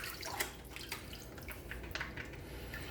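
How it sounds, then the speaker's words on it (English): Grape tomatoes rinsed under a running kitchen tap, a steady close wash of water with irregular splashes and drips as the tomatoes are turned in the stream. "Grape tomatoes, I'm just going to rinse these off."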